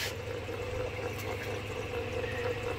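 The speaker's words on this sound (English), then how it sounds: "Here's the skimmer in function." Oil skimmer disc dipping into coolant water in a DIY flood coolant system for a surface grinder, a soft continuous watery trickle over a low steady machine hum, close and unchanging.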